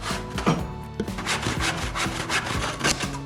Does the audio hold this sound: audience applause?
no